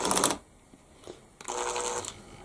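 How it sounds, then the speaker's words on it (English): A driver sinks 2-inch number 8 screws into wood in two short whirring bursts, the second longer than the first, with a brief quiet gap between them, close and fairly loud. "Just going to drive those fully home."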